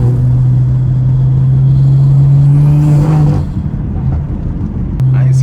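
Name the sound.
straight-piped BMW car exhaust revving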